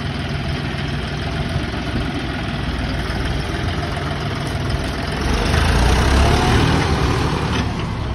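A tractor engine idles steadily in a rural Punjab yard while the machine is being washed, a constant low rumble that swells slightly louder toward the end, with no voices over it.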